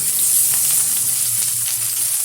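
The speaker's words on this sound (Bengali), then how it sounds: "হালকাভাবে ভেজে নেব রসুনটা" Whole garlic cloves fry in oil over cumin seed tempering, giving a loud, steady, bright sizzle up close with no talking.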